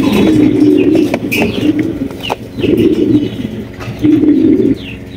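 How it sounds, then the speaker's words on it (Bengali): Large stretcher pigeons coo in repeated, close, loud throaty bursts with short pauses between, along with a few faint chirps in the background. "একদম বিগ সাইজের স্ট্রেচার কবুতর"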